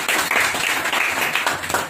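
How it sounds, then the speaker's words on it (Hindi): A group gives a student loud applause during a mobile phone repair practical class. Clapping is dense and close, with sharp individual claps standing out as the sound fades slightly at the end. "ताली हो जाए।"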